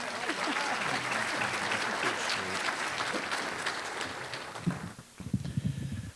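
An audience at a school district Teacher of the Year celebration claps in a loud, sustained burst that thins out toward the end as a voice begins over the last scattered claps.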